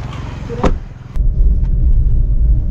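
A car drives along at night, its engine rumbling low and steady close by, with a brief sharp transient early on and the road noise growing fuller after about a second.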